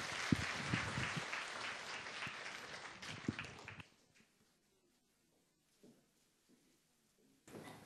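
A church audience applauds loudly in a large hall for a deaconess coming up to speak; dense clapping for about four seconds, then it cuts off into near silence, with a brief burst of sound returning at the end.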